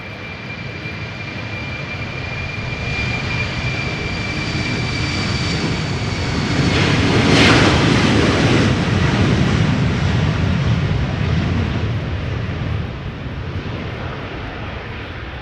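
A six-year-old KLM Embraer 190 jet spools up and takes off from Schiphol's Polderbaan runway, a loud, close, steady engine roar that swells past the listener midway and then eases slightly as it climbs away.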